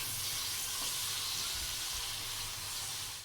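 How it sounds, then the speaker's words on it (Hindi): Chicken pieces frying in a hot pan, a steady bright sizzle with soft hissing steam, close and fairly quiet, continuous throughout with no voices. "चिकन को आपने थोड़ा सा भून लेना है।"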